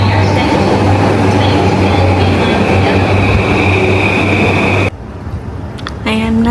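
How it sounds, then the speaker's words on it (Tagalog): A train pulls into a Tokyo station platform with a loud, steady rumble and hum. The noise cuts to quieter station ambience, and brief tonal sounds are heard near the end. "Ayan na yung tren. Sakto."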